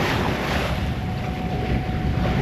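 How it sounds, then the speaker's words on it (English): Strong wind from a storm roars across the microphone on a sailboat over the wash and slap of choppy sea swell, steady and loud throughout. "Getting pretty windy and choppy because the storm is giving us a bit of swell, a lot of wind"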